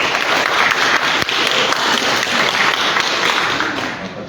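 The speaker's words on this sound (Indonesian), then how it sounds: "Tolong jangan bertepuk tangan di sini." Applause in an Indonesian courtroom during a corruption trial, a loud dense burst of many hands clapping together, sustained and slowly tapering off toward the end.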